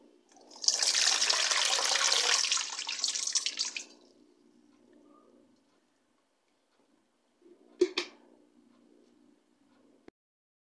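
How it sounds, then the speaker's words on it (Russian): Pickled tomato brine pours in a steady splashing stream into a measuring bowl for about three seconds and then stops. A single sharp clunk and a faint tap follow in a quiet kitchen. "И будем выливать рассол и смотреть, сколько здесь будет"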